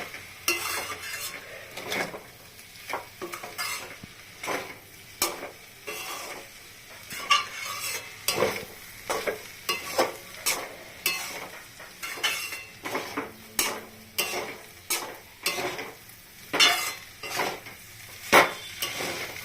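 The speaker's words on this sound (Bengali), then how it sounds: "এগুলো সবকিছু দেওয়ার পরে ভালো করে মেশাতে লাগে" A utensil stirs and tosses veg chowmein in a sizzling pan, sharp repeated metallic scrapes and clinks in an irregular rhythm over a soft frying hiss, close and fairly loud, with no talking.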